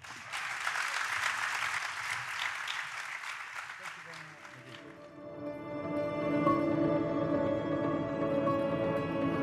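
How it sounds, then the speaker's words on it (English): A live audience applauds the speakers at a Melbourne talks event, steady clapping rising after a short pause into fuller, louder applause that continues to the end. "give a round of applause to these three great people."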